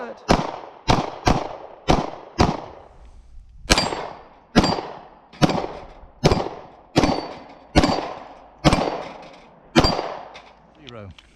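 Pistol fire from a Taurus G2C fitted with an optic, striking a steel plate: about a dozen sharp, loud shots, the first few fired rapidly and the rest spaced evenly, each leaving a brief decaying ring.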